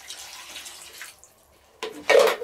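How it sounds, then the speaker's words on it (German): Broth poured into a Dutch oven holding meat and bacon for a cabbage and potato stew, giving a short liquid splash and gurgle that swells loud near the end after a quieter stretch. "tun wir unsere restliche Brühe rein"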